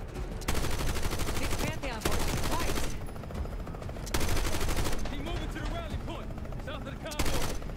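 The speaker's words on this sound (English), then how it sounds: "Oh, it's a heavy machine gun." Long, loud bursts of heavy machine gun fire from the video game Call of Duty Black Ops 6, in sustained rapid volleys separated by short pauses, with a voice talking faintly underneath.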